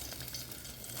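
Garlic frying in a pan of pork ribs, a steady close sizzle and crackle with no speech.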